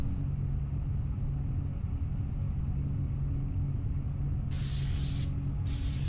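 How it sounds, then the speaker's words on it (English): A steady close spray hiss from an aerosol can of nonstick coating sprayed onto pans, heard in a long burst and a short one over a low background rumble. "To spray up some pans with nonstick coating"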